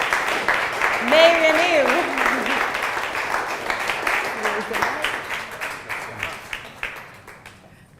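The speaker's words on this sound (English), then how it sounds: "let's give him a big round of applause" An audience at a startup fireside chat event bursts into applause, a long run of sustained clapping with sharp individual claps, while voices cheer and a speaker talks over it before the clapping thins and fades.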